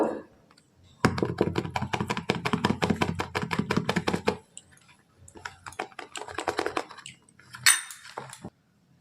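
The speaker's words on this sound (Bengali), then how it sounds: "এতে পরিমাণ মতো আমি কর্নফ্লাওয়ার গুলে নেব।" A spoon clatters rapidly against a bowl while cornflour is mixed, a dense run of quick clicking strikes, then a pause and a second shorter burst of stirring taps, close and fairly loud.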